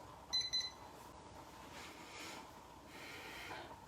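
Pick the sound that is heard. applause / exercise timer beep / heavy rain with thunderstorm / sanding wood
exercise timer beep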